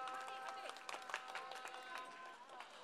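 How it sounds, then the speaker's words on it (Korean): An audience claps and cheers for a dance team at a May 18 eve dance contest, a dense wash of applause with a steady musical tone underneath that gradually thins out. "우리 바바붐 팀에게 큰 박수 부탁드리도록 하겠습니다"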